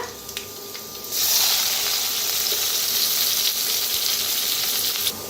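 Asafoetida, finely chopped onion and curry leaves hit hot oil with cumin for pithla, bursting into a loud, steady sizzle after a quieter second and continuing unbroken.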